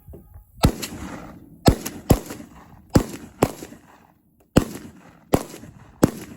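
AK-47 rifle fire on a shooting range, eight loud single shots in a steady, slightly uneven rhythm, each a sharp crack with a short echoing tail, close to the shooter and with no talking.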